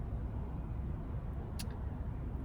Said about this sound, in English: That's a lot of traffic right now.